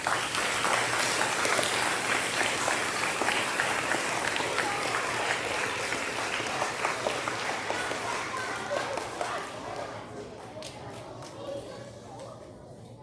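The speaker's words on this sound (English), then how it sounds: "let's give all of our athletes and Charlie a great round of applause" A high school leadership assembly audience applauds athletes, broad dense clapping filling the room at steady volume for about nine seconds, then thinning and tapering off with scattered claps and murmuring.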